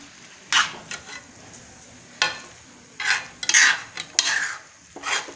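Khoya being stirred into carrot halwa (gajar ka halwa) in a pan: a series of scraping, clattering spoon-on-pan strokes in uneven bursts, close and moderately loud, with no talking.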